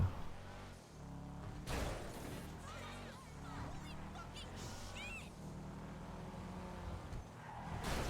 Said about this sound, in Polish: A jakoś tak dziwnie skręca te auto.